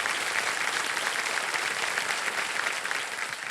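Studio audience applause on the quiz show Kaun Banega Crorepati, a dense steady roar of many hands clapping at once, loud and even throughout with no talk over it.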